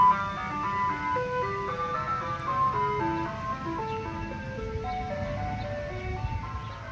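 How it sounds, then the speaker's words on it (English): An ice cream truck jingle plays outside as a tinkling, stepwise melody of bright chime notes, moderately loud and steady, over a low rumble of traffic. "Ice cream truck out of here."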